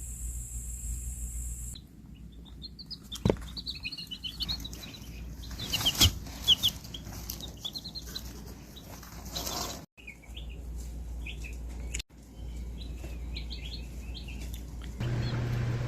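Small baby chicks peep in high, scattered chirps through the night in their brooder beside a heat plate, a steady soft hum running underneath, with a couple of brief louder bumps.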